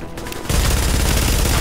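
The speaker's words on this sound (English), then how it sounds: "were you just shooting me through those?" Dense video-game gunfire in a shooter set at World Tier 1, a sustained rattling burst that kicks in loud after a brief quieter lead-in and runs without a break to the end.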